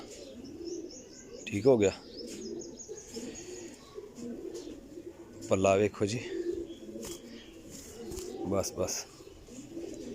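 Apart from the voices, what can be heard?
Teddy Golden cross pigeons cooing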